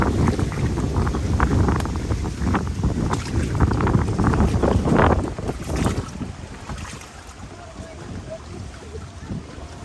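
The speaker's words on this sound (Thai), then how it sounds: "ลมแรงมากเลย" Strong wind buffets the microphone during a basket boat ride in Hoi An, Vietnam, with loud continuous rumbling gusts that ease toward the end.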